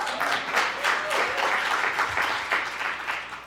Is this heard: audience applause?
yes